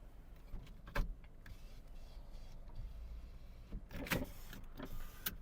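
Power windows on a Mazda 3 hatch or sedan running inside the car, a steady electric motor whine across several seconds with a couple of sharp clicks and thumps as the glass stops, no talking.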